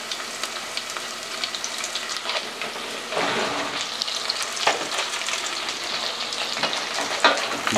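Onions, carrot and jalapenos sizzle and fry in a pan, a steady close crackle with scattered stirring clicks and pops and no voices.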